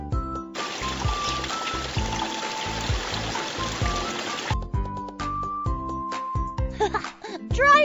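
Running water pours as soap foam is rinsed off hands, a steady splashing stream for several seconds beneath a bouncy children's music track, then the music carries on alone.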